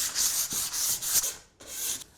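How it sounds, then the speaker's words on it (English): 180 grit sandpaper rubs along wooden edges in a series of rhythmic back-and-forth strokes, close and fairly loud, with a brief pause before the final passes. "just using some 180 grit sandpaper, I'm going to relieve the edges"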